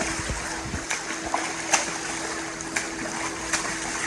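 Steady rushing water with rhythmic splashes from a swimmer's imbalanced stroke in an endless pool, uneven soft slaps recurring under the continuous churn.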